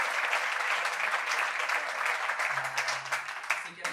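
Continuous crowd applause at a short film festival in Pointe-Noire, a thick, steady patter of many hands with a brief voice low underneath near the end.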